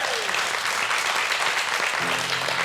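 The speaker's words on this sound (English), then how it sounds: "big round of applause for Leanne" An audience at a MasterChef Australia cooking competition applauds a contestant after her trifle is judged, a dense, loud wash of clapping that continues steadily throughout, with a brief tonal sound near the end.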